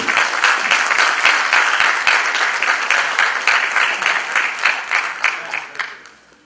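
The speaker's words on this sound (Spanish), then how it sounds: "Dar un aplauso para nuestros visitantes." An audience breaks into sustained applause, dense and loud at first, then gradually fading toward the end.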